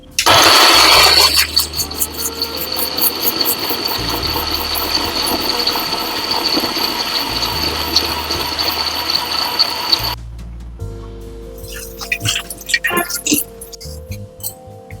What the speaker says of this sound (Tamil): 2 தக்காளி, பெரிய தக்காளி போட்டு அரைச்சிட்டு வந்துடலாம்.